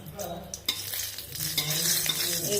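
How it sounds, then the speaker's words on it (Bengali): Two dried red chilies frying in a very small amount of oil, a soft close sizzle with a sharp utensil tap and stirring scrapes, no voices. "আমি অল্প একটু তেল দিলাম, একদম সামান্য, দেখতেই পাচ্ছ তোমরা, এই লঙ্কা দুটো ভাজার জন্য।"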